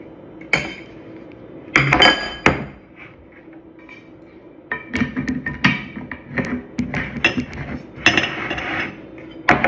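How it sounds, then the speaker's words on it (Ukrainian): A spoon scrapes and clinks irregularly against the sides of a bowl while stirring in sugar for homemade chocolate, with quieter stirring noise between the louder knocks. "і так знову перемішуємо"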